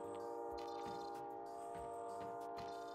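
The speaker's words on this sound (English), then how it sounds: "Train's coming." A train passing in Call of Duty Warzone gives a steady, loud rumble with sustained horn-like tones that fill the whole stretch, joined by faint rhythmic clicks of the rail cars.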